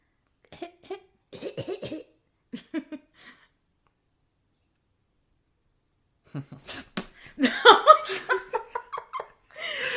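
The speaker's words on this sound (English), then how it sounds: "He's doing the kid cough." A person coughs in short, exaggerated bursts, then breaks into laughter and more coughing, with silent gaps between the fits.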